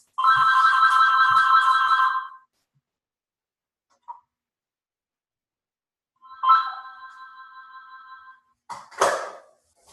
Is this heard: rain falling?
no